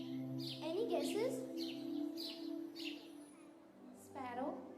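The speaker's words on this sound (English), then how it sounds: "Sparrow." A sparrow chirps in a few short bright bursts, fairly faint, played back for a guessing game, with quiet murmuring and children's voices underneath.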